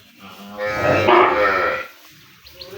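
Calves on a dairy cattle farm let out one drawn-out, fairly loud moo that swells and fades over about a second, with quiet farmyard background after it.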